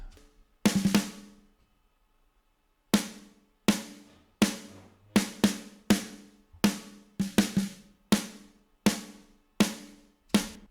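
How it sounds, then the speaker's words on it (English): Metal snare drum hits through a drum-room reverb, about a dozen sharp, loud strikes in an irregular groove, each followed by a short roomy tail, with a pause after the opening double hit. "It's just like a true verb drum room."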